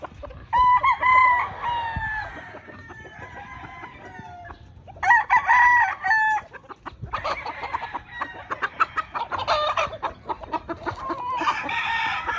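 Several gamefowl roosters, including a young stag of Kanawayon and Carrie Chua Goldenboy lines, crow loudly and close by in overlapping bursts, mixed with steady clucking, with no talking.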